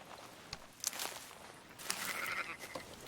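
Sheep bleating in the video game Red Dead Redemption 2, a few short, faint bleats near and far over quiet footsteps and outdoor ambience.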